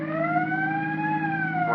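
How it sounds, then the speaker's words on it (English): A siren wails steadily in a radio drama, a loud, near, sustained tone with a slight rise and fall in pitch, heard alone. "The siren."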